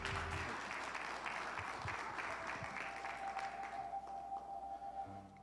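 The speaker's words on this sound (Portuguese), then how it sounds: "uma salva de palmas, igreja." A church congregation claps together in sustained, dense applause at a moderate distance, the clapping steady before thinning out near the end, with no voices over it.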